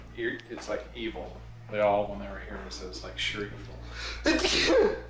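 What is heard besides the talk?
sneeze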